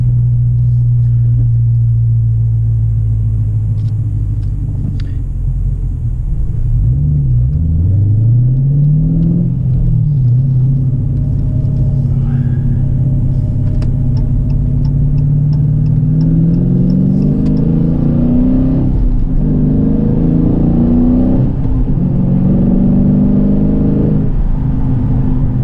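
A Dodge Challenger 392 Scat Pack with a 6.4-liter Hemi V8, six-speed Tremac manual and BBK 85 mm throttle body, idling loud and close with a deep rumble, then blipped through several rising and falling revs.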